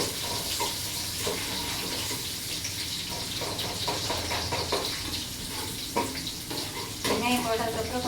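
Chopped onions sizzle in hot oil with curry leaves and green chilies, a steady, close frying hiss broken by occasional stirring clatters and splashes.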